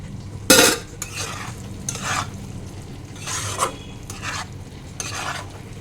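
About a spoonful of ghee sizzles in a pan as it is stirred, with repeated scraping strokes and one sharp metallic clank early on over a low, steady fry.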